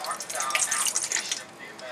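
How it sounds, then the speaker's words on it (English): A cup of water is poured into a dish in a small off-grid kitchen, a close bubbling trickle lasting a couple of seconds. "So I'm going to pour that into this dish."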